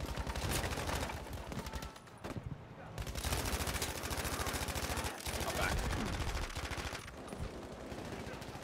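Dense, rapid gunfire in Battlefield V rattles almost continuously, with machine-gun bursts and shots layered over a loud battlefield din while players talk.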